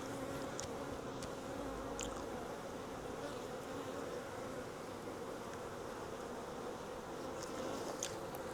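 A caught honey bee swarm buzzing continuously, a dense, steady drone of many bees close by with a few individual bees passing nearer, and no talk.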